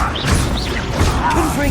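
A Descendo spell slams down in the Hogwarts Legacy video game amid a busy fight, with whooshing magical sweeps and thuds layered under ongoing game effects.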